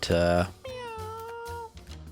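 Cat meows in the video game Mewgenics: a loud, bright meow followed by a longer, drawn-out wavering meow and a short trailing call, heard close with no talk.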